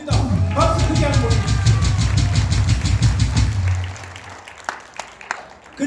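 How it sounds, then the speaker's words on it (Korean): Crowd applause at a Korean political rally fills the opening seconds, loud and steady over a low rumble, with some voices mixed in, then thins out toward the end. "박수 크게 한번."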